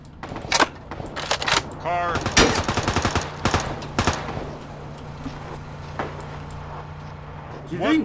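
Gunfire in the battle royale game Ring of Elysium: bursts of sharp shots, some rapid and clustered, crack out at irregular intervals over several seconds, with a person talking in between.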